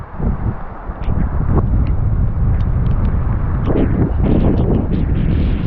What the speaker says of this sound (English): You can probably tell by how windy it is.